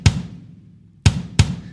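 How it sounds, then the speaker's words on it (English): A second layered kick drum sample, adding top end and room tone: three punchy, close hits, one at the start and two more about a second later in quick succession, each with a short decaying tail. "we're layering it with another kick drum that sounds like this."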